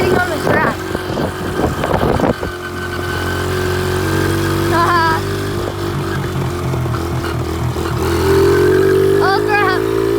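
A pit bike engine runs and revs while riding on a track, a loud, close motor drone rising and falling in pitch throughout, with brief voices breaking through over it.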